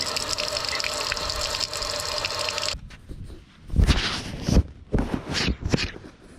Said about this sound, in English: So we're gonna get the hose over here. We'll see how much stuff is coming out here.